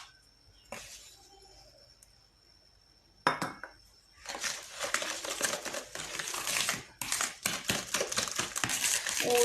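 Beaten eggs and sugar are mixed in a bowl: a sharp clink, then a sustained burst of scraping, clattering strokes, a brief pause and more vigorous mixing, all close and fairly loud, with no talking.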